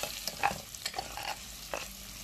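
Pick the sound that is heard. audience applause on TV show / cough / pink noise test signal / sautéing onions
sautéing onions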